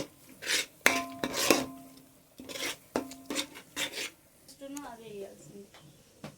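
A utensil scrapes and clanks around a pan while marinated fish mix is stirred into biryani gravy, a run of close irregular scraping strokes and knocks, with someone talking between them.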